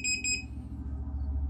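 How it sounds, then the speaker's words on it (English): A Tresani standing desk gives two quick, high electronic beeps up close. A low, steady hum continues after the beeps. "people have issues with it beeping like that and think it's broken"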